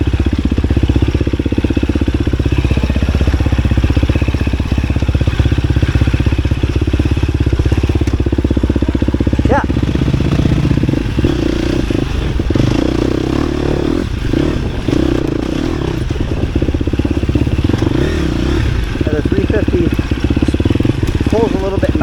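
A 250 or 350 dirt bike rides up small climbs on a hare scramble style trail, its engine droning loud and continuous with rough, rising revs, while a voice talks over it.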